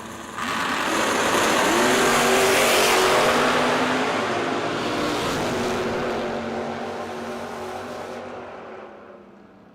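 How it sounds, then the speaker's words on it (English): Sticker dragsters roar off the line at a drag strip, a loud, broad engine blast that swells as the cars launch, then fades slowly as they pull away down the track. "Blue run sticker dragsters. We will take you to the lanes, please."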